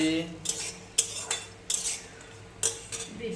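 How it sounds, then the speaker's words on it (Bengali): Peanuts frying in a pan are stirred with a metal utensil, giving several sharp clinks and scrapes against the pan in an irregular rhythm over a faint background sizzle. "এই বাদাম ভাজা চলছে"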